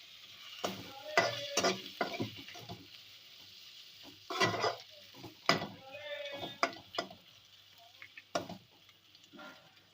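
Chopped ginger frying in oil in a pot for chicken pulao, heard as soft sizzling broken by a series of sharp scraping and clanking stirs against the metal, some close and loud, others lighter, with no talking.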